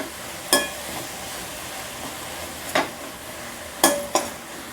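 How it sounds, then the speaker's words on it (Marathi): A spoon is stirring kurdu wild greens in a pan over low heat, giving four sharp scraping clinks against a soft sizzle, heard near and with no talking. "आता यामध्ये ही कुरडू भाजी टाकून घ्यायची। बघा आणि चांगली मिक्स करून घ्यायची।"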